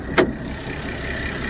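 A 3.6-litre Volkswagen Touareg-derived engine in a 2018 Porsche Cayenne Platinum Edition runs smoothly at a steady idle, close and constant, with a single brief click near the start.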